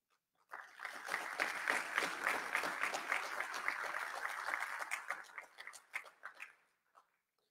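A graduation ceremony audience bursts into applause after a short silence, a dense, moderately distant clapping that holds steady, then thins into scattered claps and stops.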